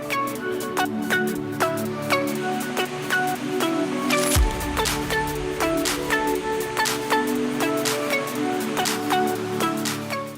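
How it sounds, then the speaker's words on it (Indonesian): Hatonduhan waterfall in Simalungun, North Sumatra, a steady broad roar of falling water heard close, with a brief sharp knock partway through and repeated faint clicks above the rush. "saya ingin turun ke bawah untuk melihat pesona air terjun ini langsung dari bawah"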